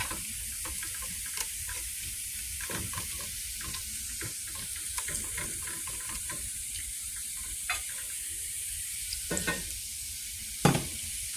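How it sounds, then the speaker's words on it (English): A roux for broccoli cheddar soup is stirred in a pot as half and half is slowly poured in, giving a soft continuous sizzle and wet scraping with occasional sharper clinks of the spoon, close and fairly quiet. "Just kind of slowly pour it in, just to kind of be able to stir this roux so it won't lump."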